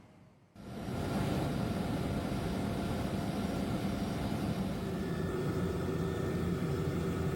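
An Indonesian Air Force helicopter in flight gives a loud, steady broadband engine and rotor roar that starts abruptly after a quiet opening and holds constant, heard from inside the aircraft over flooded North Sumatra.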